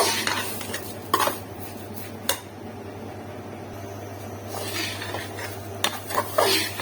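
Semolina roasts in a pan for sweet halwa, stirred steadily with a spoon that scrapes and clinks against the metal, over a soft dry sizzle.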